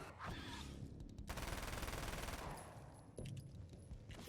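Bursts of rapid gunfire from the video game Alan Wake's American Nightmare, loud and dense in fast volleys with brief gaps between them, heard without talking.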